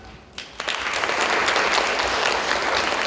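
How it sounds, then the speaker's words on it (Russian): Audience applause at the Molodo ne Zeleno 2024 youth media festival swells quickly after a quiet start into a dense, even clapping that holds to the end. "Я думаю, что они достойны наших аплодисментов."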